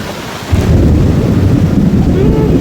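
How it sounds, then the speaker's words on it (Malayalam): Heavy rain pours at Marine Drive under an umbrella, a loud dense hiss and rumble surging in suddenly and then holding steady, with voices faintly beneath. "മഴയത്ത് പെട്ട് ഗായ്സ്,"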